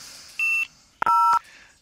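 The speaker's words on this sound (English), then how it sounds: "Beep." Two electronic beeps from an automated phone payment system, each a steady tone about a third of a second long, the second lower and fuller, separated by a short pause with no talk.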